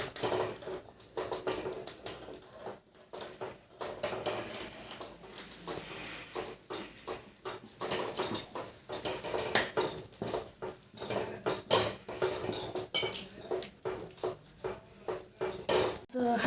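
Besan is stirred into boiling water in a pot for patvadi, with a rapid run of close, repeated scraping and knocking strokes throughout and no talking.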